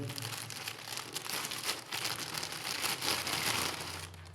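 Plastic cargo parcel packaging is opened up close, giving continuous loud crinkling and crumpling with irregular rustling bursts throughout.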